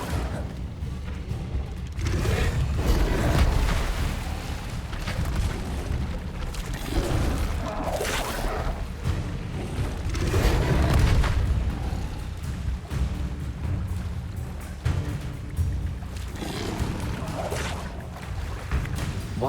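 Fiery spell blasts from the Incendio fire spell in the Hogwarts Legacy video game, heavy booming bursts that roll on continuously for the whole stretch, loud and rumbling with several swelling peaks.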